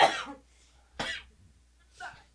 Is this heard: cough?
yes